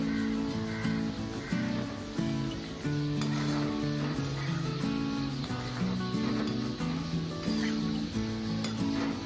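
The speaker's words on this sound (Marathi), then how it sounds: "असे शंकरपाळे होईपर्यंत आपल्याला हे तळून घ्यायचे।" Wheat shankarpali dough pieces fry in oil with a steady hissing sizzle, heard under a melodic background music track throughout.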